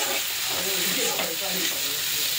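Spiced koi fish sautéing in a pan during a Bengali curry's kosha stage, a close, steady sizzle and hiss throughout with faint stirring scrapes.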